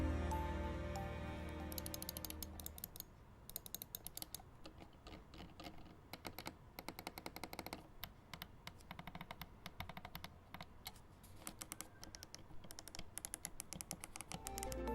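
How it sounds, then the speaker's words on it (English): Rapid clicking of Razer Naga 2014 gaming mouse buttons, sharp short taps in irregular bursts, some quick and rhythmic, close and fairly loud with no talking. "Here's a listen of how all the buttons sound."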